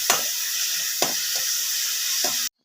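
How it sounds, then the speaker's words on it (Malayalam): A medium tomato sizzles steadily in about two spoons of coconut oil, close and loud, with a few stirring scrapes breaking the hiss before it cuts off abruptly. "തക്കാളി നന്നായിട്ട് വഴറ്റി ആ എണ്ണ അത് ശകലം 2 സ്പൂൺ എണ്ണയെ ഒഴിച്ചിട്ടുള്ളൂ, വെളിച്ചെണ്ണ."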